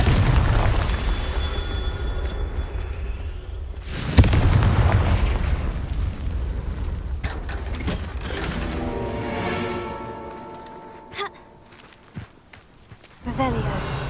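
Confringo blasts go off in Hogwarts Legacy, with a loud booming hit partway through, over a dense low rumble and scattered game sounds, followed by quieter thuds and footsteps.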